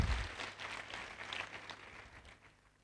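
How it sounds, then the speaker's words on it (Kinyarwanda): Applause from a gathering that is strongest at the start and then thins and fades out over a few seconds, soft and somewhat distant, with no talking over it. "mumpera amashyi"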